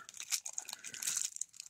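Adhesive tape peeling off a cross-stitch needle packet, a brief faint crinkly tearing rustle close by.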